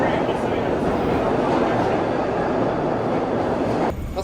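A South Jersey commuter train rolls into a terminal station with a steady, loud rumble of wheels and carriage noise that holds throughout before easing off at the end.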